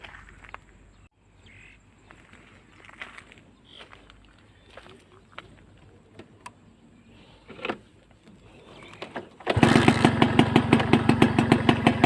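Faint ambient sounds and scattered clicks give way, near the end, to a Kawasaki Tuxedo motorcycle engine firing up loudly with a fast, pulsing rhythm.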